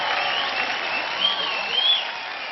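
Studio audience on a talent show finale applauds steadily and loudly in a continuous wash of clapping with some cheering, no voices over it.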